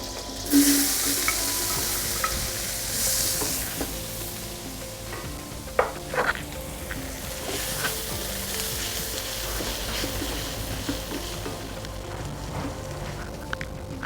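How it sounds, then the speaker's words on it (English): Two medium onions fry in melted butter in a pan, making a continuous close sizzle with soft stirring scrapes and a few sharper crackles partway through. "In the pan, I'm going to add a little bit of butter. And here I've got 2 medium-sized onions."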